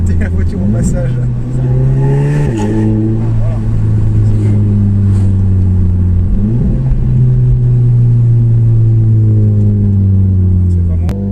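Audi quattro with a stage 1 tune making 230 hp, its engine droning loud and close as it accelerates through rising revs with gear changes, a person talking over the sound.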